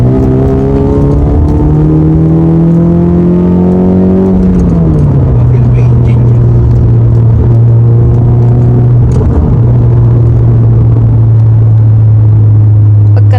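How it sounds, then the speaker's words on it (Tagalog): A red Honda Civic FD on a test drive, its engine droning loud and close with a rising tone, then a gear change dropping to a steady cruising hum as voices speak over it. "Tinest drive na nga ni Mr. itong pulang kotse, kaya pakinggan natin."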